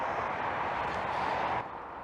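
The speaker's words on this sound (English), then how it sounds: "So sorry for the road noise." Steady road traffic noise at a country park in Tonbridge, a broad rushing hiss and low rumble from passing vehicles, continuous and moderately distant.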